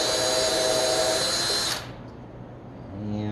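A power drill whines loudly and steadily, then cuts off abruptly and winds down, before a lower motor hum starts again near the end.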